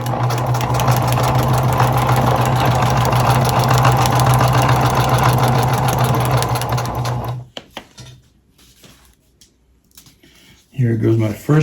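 A sewing machine stitching a handle onto a tote bag made from an old feed bag, loud steady motor whir for several seconds, then stopping, with quiet handling and a brief restart at the end.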